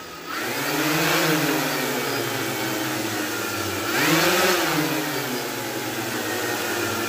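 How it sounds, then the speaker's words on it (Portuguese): Motors of a Hubsan X4 Pro drone spinning up with a high whine, briefly rising in pitch twice as they are revved, holding a steady buzzing hum in between. "vamos ativar os motores dele aqui. Ó, Acelerar só um pouco"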